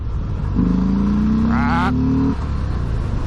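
A Harley-Davidson Fat Bob motorcycle engine idles steadily with a low, even hum, joined briefly by a higher whining tone in the middle, fairly close.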